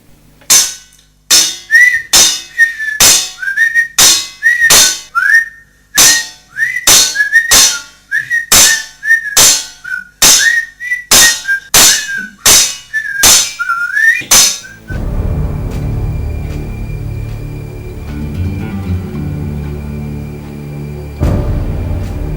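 Whistling over loud, regular metallic bangs like a dustbin lid being struck, a steady rhythm of whacks with whistled notes between them, then a shift to a quieter, muffled background noise.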